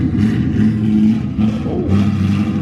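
A Corvette LS3 V8 running E85 revs in a short burst, a loud steady low rumble that swells and dips twice with throttle, close by, with no talking.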